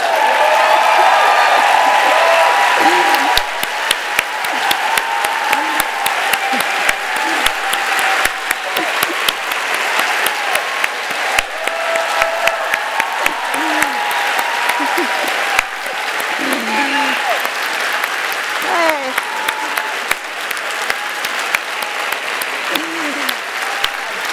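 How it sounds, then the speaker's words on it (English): A large audience applauding steadily and loudly, a continuous wash of clapping that carries on without pause. "the applause is great"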